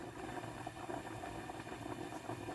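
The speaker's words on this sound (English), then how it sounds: "Look at these little bubbles." Swedish meatballs simmering in a spiced sauce in a pan, giving a steady low bubbling and sizzling murmur that stays close and even throughout, no talking.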